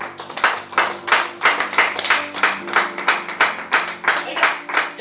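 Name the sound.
church congregation applauding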